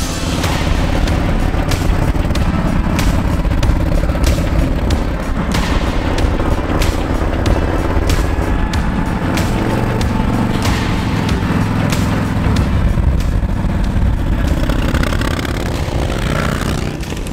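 A loud custom Harley-Davidson Fat Boy motorcycle engine roars continuously throughout, with booming exhaust pops and rumbling as the bike rides along, no voices.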